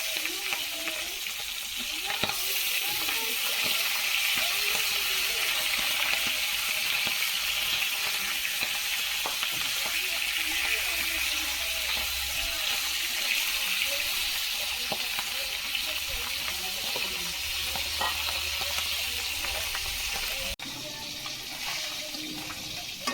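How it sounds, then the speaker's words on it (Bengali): Fish fries in a pan with a steady, moderately loud sizzle and bubbling hiss, interrupted by faint spatula scrapes, lasting throughout before easing slightly near the end. "মাছগুলো ভেজে নেই।"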